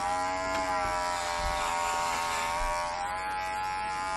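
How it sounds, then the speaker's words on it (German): An electric razor that no longer shaves well buzzes steadily and continuously at close range, a constant droning hum with no talk. "Hier so ein Rasierer, weil der rasiert echt nicht mehr so toll."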